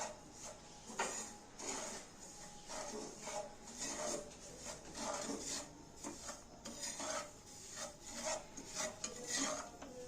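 A spoon scrapes and rasps against a pan as semolina is stirred for suji halwa, a steady rhythmic gritty scraping that repeats in strokes, close and fairly quiet, with no talking.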